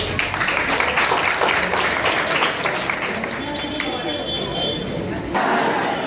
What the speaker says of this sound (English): Applause for it.